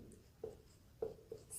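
Chalk or marker writes on a board during a South Indian history lesson, making a few faint, quiet strokes and taps spaced out over a moment, with no talk.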